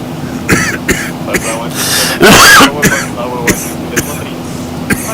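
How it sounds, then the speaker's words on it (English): A man clears his throat and coughs once, loud and close, amid a steady aircraft cabin hum and scattered clicks during a climbing Hong Kong Express Airways flight. "my wife is going to hear me coughing"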